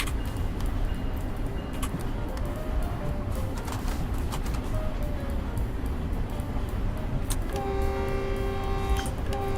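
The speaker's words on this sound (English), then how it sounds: "Did they change the cab car horn?" Cab car horn of a San Bernardino Line train in Train Sim World 5, sounding as a sustained tonal blast late on over a steady, loud rumble of the moving train.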